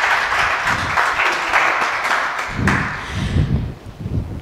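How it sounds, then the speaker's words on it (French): Audience applauding at a school quiz competition in Odienné, a dense wash of clapping that runs steadily throughout, with some lower thumping bursts toward the end. "On les applaudit, s'il vous plaît."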